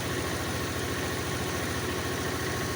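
A Yamaha Majesty 400 scooter engine, recently revived after months of sitting unused, idles steadily with a close, even low-pitched pulsing throb and no voices over it.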